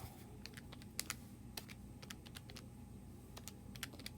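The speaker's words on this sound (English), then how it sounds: "I can't even type it in my calculator." Key presses tapped out on a calculator, a steady sequence of light, sharp clicks spaced irregularly over a low background hum, no voices present.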